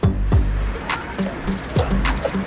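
Cars passing close by on a Lima street, several vehicles swishing past one after another with low engine rumble and tyre hiss rising and fading in quick succession.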